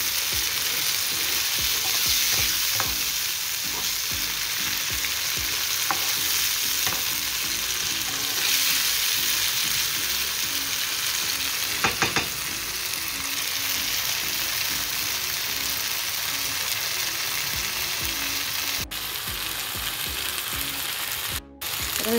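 Tenga leaves fry with onion and garlic in a pan, giving a loud, continuous sizzle with repeated stirring scrapes and clicks from a utensil, close up and with no talking.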